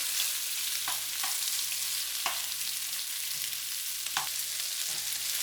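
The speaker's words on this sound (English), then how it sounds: "And now we're gonna add the beef. Spread the beef out." Beef fries in an oiled pan for beef fried rice, a steady close hiss of sizzling with a few soft scraping taps from a utensil, and no voices.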